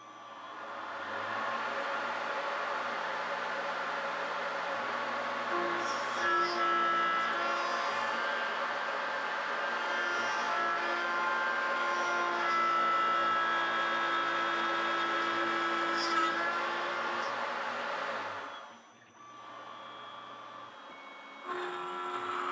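A mill cuts and chamfers a metal seppa for a Japanese sword, a sustained, steady machining whine with shifting tonal lines that runs for most of the stretch, then drops away briefly near the end.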